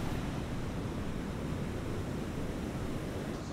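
Ocean surf ahead of a super typhoon, a dense, continuous low rushing roar of waves mixed with wind, steady and fairly loud with no distinct breaks.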